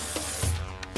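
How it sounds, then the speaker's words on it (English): Liquid sprayed from a handheld sprayer bottle, several quick hissing bursts close by and fairly loud, with no talking. "I'm going to spray that on"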